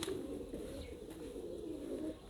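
Pigeons cooing in a Baku pigeon loft, soft low repeated coos blending into a continuous murmur, faint and close, with a faint outdoor background and no talking.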